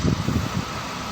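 A car engine runs steadily through a temperature test, a low continuous rumble with slight surges near the start that settle into an even hum, with no talking.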